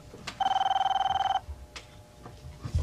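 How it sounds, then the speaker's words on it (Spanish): A telephone rings with one bright, trilling electronic burst lasting about a second, followed by a few faint knocks and room noise. "Mira, está sonando el teléfono"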